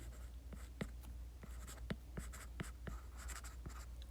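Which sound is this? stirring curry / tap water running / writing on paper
writing on paper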